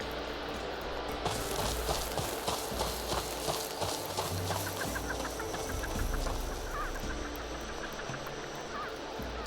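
Chickens cluck and chatter repeatedly in the Two Worlds 2 video game, moderately loud over a steady ambient game background with rhythmic clopping-like sounds throughout.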